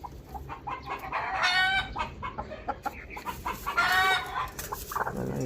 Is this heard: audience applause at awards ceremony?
no